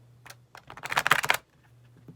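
A brief, soft riffle of oracle cards being shuffled, a quick flurry of papery flicks close by in a quiet room.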